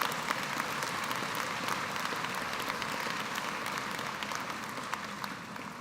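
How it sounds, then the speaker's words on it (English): A large crowd applauds at a university commencement ceremony, a steady, even wash of clapping heard from a distance in a big hall, continuing without pause. "Let's give them another round of applause."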